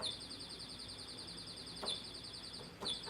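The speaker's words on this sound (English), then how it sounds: "This is bird. Yeah, like ringtone." A faint, repeating electronic birdsong tone chirps in a steady pattern, with two brief soft clicks over quiet background hiss.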